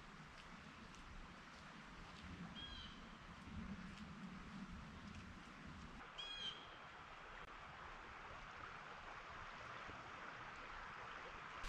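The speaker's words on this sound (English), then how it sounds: "that water sounds so peaceful" Stream water flowing in a wooded day-use area of North Bend State Park, West Virginia, a faint, steady broadband rush with a couple of brief faint chirps.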